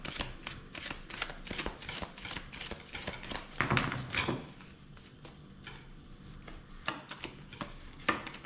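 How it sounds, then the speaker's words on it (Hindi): A deck of tarot cards is shuffled during a reading, giving repeated soft riffling and slapping bursts close by, with a few sharper taps partway through and no talk. "मैं कर लेती हूँ कार्ड की शफलिंग।"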